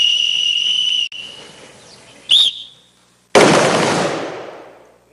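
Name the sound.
gunshot fired at target during police training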